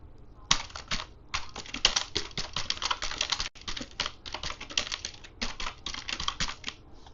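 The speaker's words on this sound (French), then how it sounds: "Nous allons taper un prompt, par exemple, génère-moi" Fingers type a prompt on a computer keyboard in quick irregular bursts of close, crisp key clicks with short pauses between words, and no one speaks.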